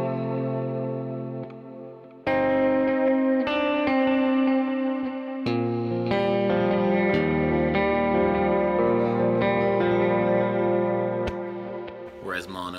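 Electric guitar with effects heard through a stereo in-ear mix, playing sustained, rich chords and notes with a chorus-like shimmer and echo, loud and close throughout.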